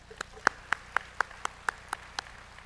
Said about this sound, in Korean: 감사의 박수 한번 하겠습니다